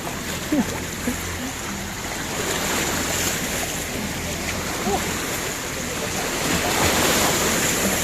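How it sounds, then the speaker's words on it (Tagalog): Sea waves wash steadily along a shore, a broad continuous roar of surf mixed with wind buffeting the microphone and a few faint distant voices. "Dako mong dagat"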